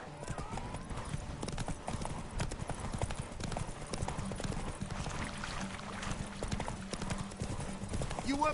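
Roach, Geralt's horse in The Witcher 3, galloping with rapid rhythmic hoofbeats that run continuously and fairly loud, with faint snorts and a neigh, while voices talk over the gallop.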